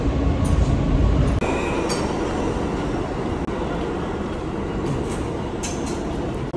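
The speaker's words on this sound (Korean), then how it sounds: "뉴욕에 와서 첫 지하철을 한번 타봤습니다" A New York subway train rides along close to street level, a loud continuous rumble of wheels and carriage with faint clinks and brief squeals, steady throughout with no voices.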